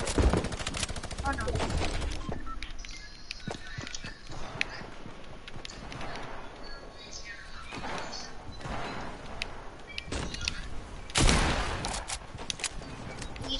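Rapid bursts of gunfire from a multiplayer shooter game, pistols and a hunting rifle among the weapons, crackling close and far with repeated sharp shots over busy background noise, one loud blast near the end, voices talking over it.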